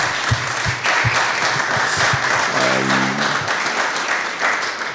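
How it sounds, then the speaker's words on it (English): An audience claps for the speakers at the close of a panel on economic and energy challenges, a sustained round of dense applause with a few low voice sounds mixed in. "please give them a big applause"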